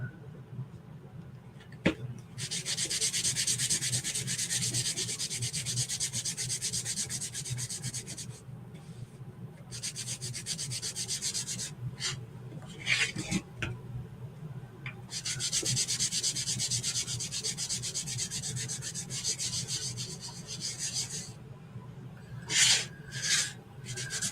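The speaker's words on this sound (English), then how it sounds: "Just applying a layer of wax." Cloth or pad rubbing wax onto a wooden cutout, giving long scratchy back-and-forth strokes in repeated bursts with short pauses, close up and steady.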